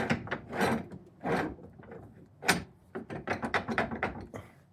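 A small vise mechanism is worked by hand, giving a run of close clattering, ratcheting and scraping metal-on-wood clicks with uneven rhythm, louder bursts at the start and a quicker patter toward the end.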